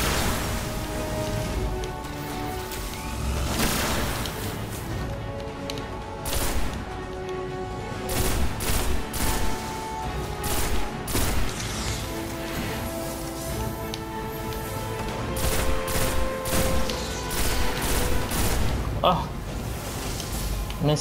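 Gunfire in the shooter game Destiny: repeated sharp shots in irregular bursts and clusters over a steady game soundscape, moderately loud, spread across the whole stretch.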